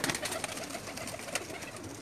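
Pigeons coo on a rooftop loft in Jeddah, Saudi Arabia, giving soft, repeated, close calls over low background noise, with no talk.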